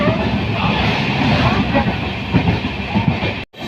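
Onboard the 13126 Sairang to Kolkata Express running fast past a skipped station, a loud continuous rumbling roar with rhythmic wheel clatter fills the cabin, cut by a sudden brief dropout near the end.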